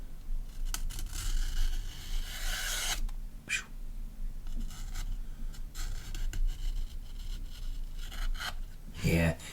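A sharp pocket knife slicing through some material: scratchy rasping strokes near the start and faint cuts later, with someone talking over much of it.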